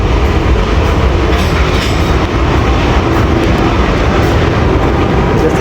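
Inside a coach of the Sandal Express passenger train in Pakistan: a loud, continuous rumble of wheels on rails with steady clickety-clack, heard close and unbroken throughout.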